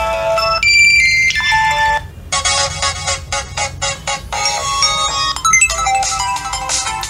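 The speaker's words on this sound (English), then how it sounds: "these are seriously loud ringing tones now" Loud electronic ringtones from a Gionee Elife E6 phone play one after another, bright chiming melodies with short pauses between them, no voices.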